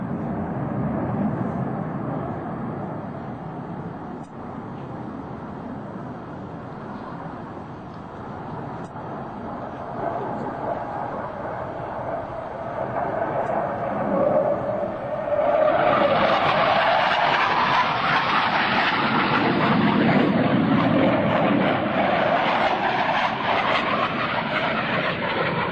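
Two US Navy Blue Angels jets crossing over center point at an airshow in 2003, a steady roaring jet rumble that swells into a louder, brighter whoosh midway as the aircraft pass close, with no talk.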